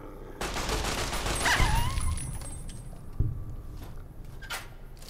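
Rapid gunfire from an ammo-hungry weapon firing hollow point rounds in Fallout New Vegas, a burst of quick shots against a noisy background with a few sharper cracks, fairly loud and with no talking.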